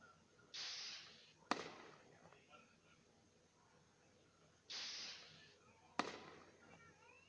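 Rockets launch in a fireworks arcade game, each a bright hissing whoosh of about a second followed by a sharp pop, the pattern heard twice at steady loudness.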